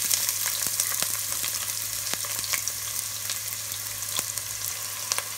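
Onions frying in ghee with cardamom, cloves and bay leaf for chicken biryani, giving a steady close sizzle with scattered sharp crackles and pops.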